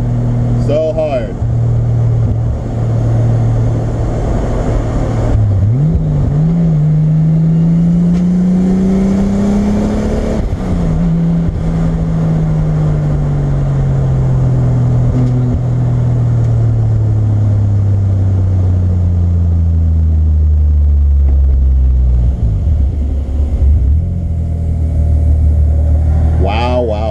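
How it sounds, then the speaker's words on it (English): A Toyota MK3 Supra with a 7MGTE engine pulling hard under boost on city streets, heard from inside: a loud, sustained engine drone that climbs in pitch through long gear pulls, drops at each shift, and builds again, with people talking. "That car just pulls so hard."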